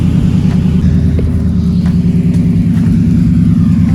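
A lifted Ford F150 truck running on E85 idles with a loud, close, steady low rumble and a slightly uneven pulsing throb, with no voices over it.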